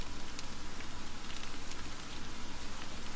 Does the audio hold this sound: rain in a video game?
yes